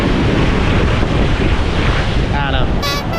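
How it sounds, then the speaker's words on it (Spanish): Loud, rushing surf with waves breaking nearby on Punta Uva beach, Costa Rica, wind buffeting the microphone throughout. "No, que están rompiendo acá las olas."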